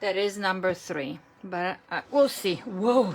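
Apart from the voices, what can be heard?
No everyday noises stand out.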